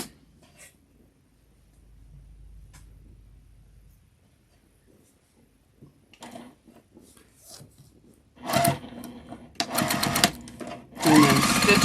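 A sewing machine stitches quilt-as-you-go table runner strips in short, loud bursts near the end, after a quiet stretch of faint handling sounds and fabric shuffling.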